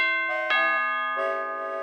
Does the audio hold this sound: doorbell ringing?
yes